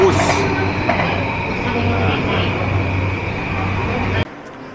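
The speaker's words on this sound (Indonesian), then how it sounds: "Shinkansen guys, kereta cepat" A Shinkansen high-speed train in Japan rushes past with a steady, loud rumbling roar that cuts off abruptly near the end, leaving quieter background.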